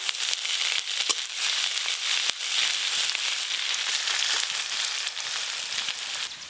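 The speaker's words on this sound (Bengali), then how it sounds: "লাল শাক ভাজা করলে আপনারা সব সময় রসুন কুচি আর শুকনো লঙ্কা ফোড়নে দেবেন" Chopped garlic and dry red chillies fry in hot oil as tempering for red spinach, producing a dense, continuous sizzling crackle with scattered sharp pops, close and fairly loud, with no talking.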